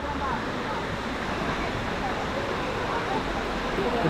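Water rushing over large rocks at a waterfall near Sakleshpura, a steady loud broadband roar that stays constant throughout, with no voices breaking through.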